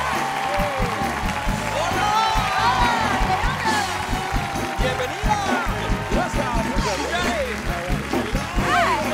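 Studio audience applause and cheering for guests Dora Madison and E.J. Bonilla on the late-night talk show Noches con Platanito, a dense, steady roar of clapping with whoops and music underneath throughout.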